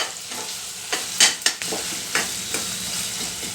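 Curry leaves and spices crackle and fry in a hot pan, a continuous sizzle broken by several loud bursts and spatters of spitting oil, up close with no talking.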